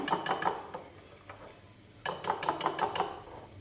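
Metal utensil scraping and clinking against a pan of hot oil while stirring a mixture for egg pantua, a burst of sharp clacks early, a quieter stretch, then a rapid run of loud scrapes and knocks.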